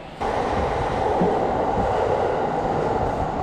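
A train rumbles along elevated Shinkansen tracks overhead on a Tokyo shopping street, a loud, steady roar that starts abruptly and holds throughout.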